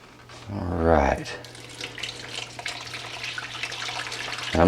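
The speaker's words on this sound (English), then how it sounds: "I'm putting in some hot water." Hot water pouring into a pan holding smoked corned beef for braising, a steady rushing splash lasting several seconds, close and fairly loud, with a brief voice near the start.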